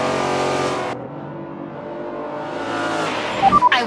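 Race car engines roar at the Homestead track in Forza 7, a steady dense drone of several cars that thins briefly, swells again, and ends with short sharp bursts of revving near the close.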